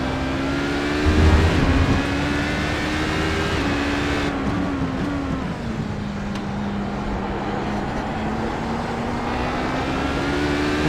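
Race car engines in the SpeedFX Daytona 12 Hours video game hold a steady loud drone with a gliding, slowly falling pitch, a brief louder rise near the start, continuous throughout without talk.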